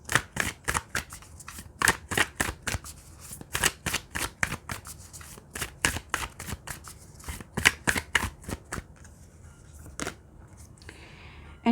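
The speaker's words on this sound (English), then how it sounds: "Let's get one more card." Tarot cards being shuffled for a reading, a rapid run of crisp riffling bursts repeating in quick rhythm, close and fairly quiet, with no talking over them.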